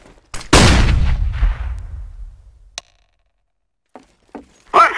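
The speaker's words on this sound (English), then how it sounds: "Throwing grenade." A grenade goes off in a first-person shooter match: one heavy, booming blast with a long rumbling tail that fades over a couple of seconds, followed by a few scattered sharp clicks and a loud burst at the end.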